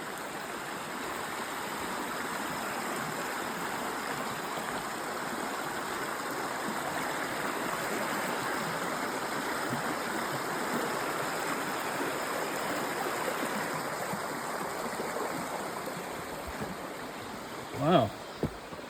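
A waterfall and rushing stream pour continuously beneath a bridge along the Appalachian Trail, a loud, even roar of water filling the scene, with a brief knock near the end.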